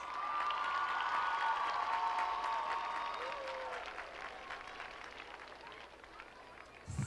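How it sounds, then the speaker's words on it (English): Audience applause for the organizers at the 2014 North Salem High School graduation ceremony, a broad sustained clapping wash that slowly fades over several seconds, with a voice faintly heard underneath. "Let's please give them a huge round of applause."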